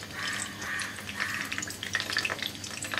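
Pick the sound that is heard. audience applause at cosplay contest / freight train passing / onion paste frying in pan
onion paste frying in pan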